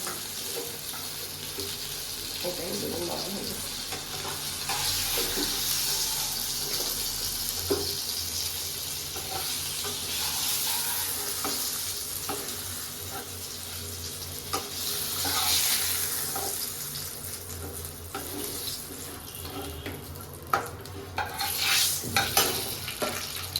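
Cumin seeds sizzling in hot oil in a pan for an eggplant and fish mustard curry, a steady bright frying hiss close by with occasional stirring scrapes and clinks, no talk.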